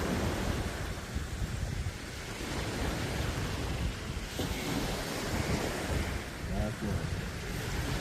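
Ocean waves wash steadily onto the shore in a continuous, loud roar of surf with wind noise, and no voices are heard.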